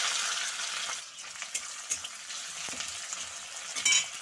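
Onion, garlic, green chili and tomato sizzle together in hot oil, a soft, close frying crackle with occasional stirring scrapes and small pops, no voices.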